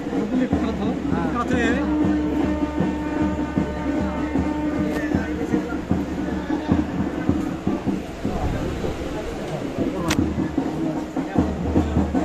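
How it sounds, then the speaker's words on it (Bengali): A train departing Azimganj Junction on its inaugural run to Kasimbazar rumbles and clatters steadily with rhythmic wheel knocks and a horn-like tone, while voices talk over the noise. "আমাদের ট্রেন ছেড়ে দিল আজিমগঞ্জ জংশন"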